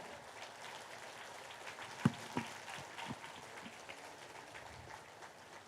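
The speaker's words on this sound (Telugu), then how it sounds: "పత్రిజీ గారికి గట్టిగా క్లాప్స్" Faint, diffuse applause from an audience at a large meditation gathering, a soft continuous patter of many hands heard at a distance with a couple of slightly louder claps.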